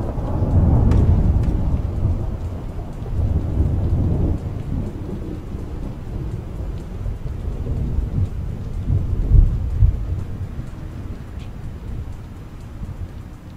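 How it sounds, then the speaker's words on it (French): A thunderstorm in the video game Arma rumbles loudly with deep rolling thunder over steady heavy rain, the booming swells rising and fading across the stretch with no voices. "la tempête là"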